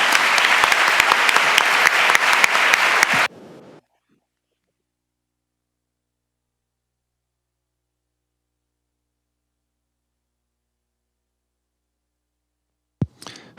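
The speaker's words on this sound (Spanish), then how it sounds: "me gustaría pediros es un aplauso para los ponentes de esta mesa" A conference audience applauds panel speakers with loud, dense clapping for about three seconds before it cuts off abruptly into silence, with a brief thump near the end.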